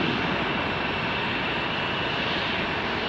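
A JetBlue airliner in retro livery at Salt Lake City airport roars with a steady, broad jet engine rumble, loud and constant throughout with no voices.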